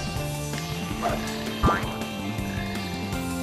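A loud, close frog croak in the Sonic Heroes video game, a single throaty call over a constant ambient drone with faint background chirps.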